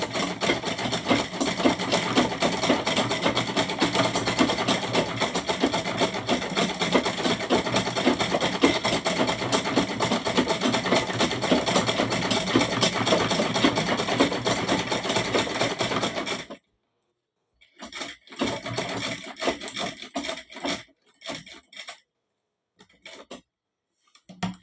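Sewing machine stitching a pillow cover, a fast continuous mechanical whir for about sixteen seconds, then silence broken by short stop-start bursts of stitching.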